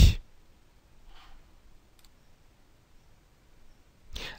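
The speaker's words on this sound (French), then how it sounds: "nous cliquons sur création du dossier" A computer mouse clicks while a folder is created in Généatique 2012 genealogy software: a sharp near click at the start, a faint soft tap a second later, and another click at the end, with quiet in between and no talking.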